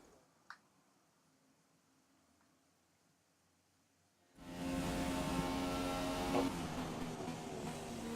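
A Formula 1 race car engine from the F1 2017 game at the Australia circuit kicks in after several quiet seconds, then roars as a dense, loud, steady whine on a flying lap.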